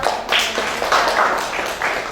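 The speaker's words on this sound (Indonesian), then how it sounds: "Tepuk tangan dulu buat." A short burst of several people clapping together in a classroom, fairly close, lasting only a couple of seconds.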